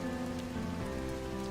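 Light rain falls steadily in the evening outside a café, a soft, continuous patter on surfaces with a low hum underneath, alone with no voices.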